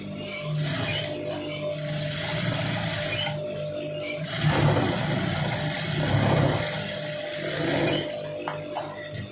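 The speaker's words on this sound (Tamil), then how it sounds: "உதறிட்டு இதில் தையல் போட்டுருங்க." Sewing machine stitching a long sleeve seam, running loud and steady with a continuous whirring drone, briefly easing off and picking up again, with no talk over it.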